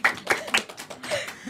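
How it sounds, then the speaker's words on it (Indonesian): Scattered clapping from a small audience at a talk on early childhood education programs, a few uneven bursts of hand claps close by, modest in volume and without a steady rhythm. "Tepuk tangan dong."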